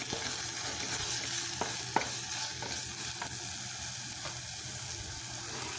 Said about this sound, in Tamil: இப்போ தக்காளி நல்லா வதங்கிடுச்சு.